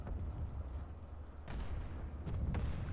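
Distant gunfire in the game Planetside 2: muffled booming shots come in a few separate bursts over a low, rumbling background, all fairly faint.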